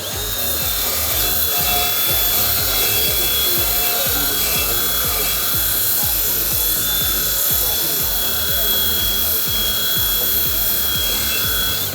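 A Milwaukee M12 cordless band file runs steadily, giving a continuous rasping, whirring drone at a construction trade show, with busy hall noise behind it.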